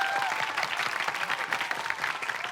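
A TV variety show studio audience claps steadily and evenly throughout, a moderately loud spatter of many hands with a faint murmur beneath.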